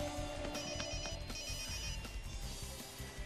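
A telephone rings with a repeating electronic trill during a busy training scene, heard over background music and activity.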